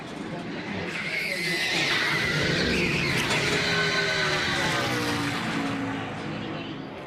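A NASCAR stock car hops its wheels after a downshift into third gear with no rev match during a practice session, producing a loud, sustained engine roar with juddering, skidding tire noise close by.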